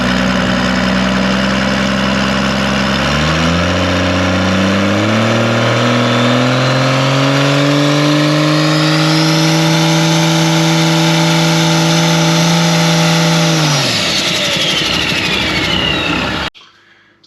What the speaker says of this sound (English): So we do the first spool up,